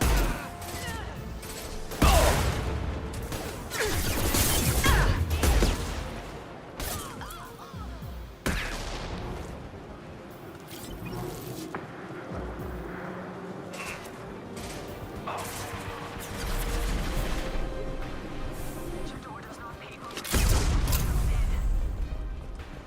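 Gunfire bursts in the video game Mass Effect 2, loud volleys around the start and again near the end, with quieter mechanical clatter and combat noise between them.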